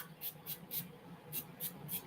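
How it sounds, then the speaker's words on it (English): A leave-in hair spray is spritzed onto the scalp in a steady series of about six short, sharp, hissing bursts, close and fairly soft, with no talking. "I shake it up real good. And I just spray my scalp."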